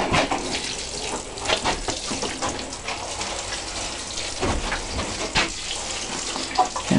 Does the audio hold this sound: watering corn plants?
yes